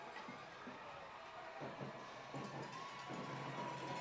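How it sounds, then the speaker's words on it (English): Crowd at a high school football game, Sanger Indians against Carthage Bulldogs, cheering and shouting from the stands, a steady roar at a distance with bursts of louder whoops rising and falling. "You can tell the crowd is a little bit louder."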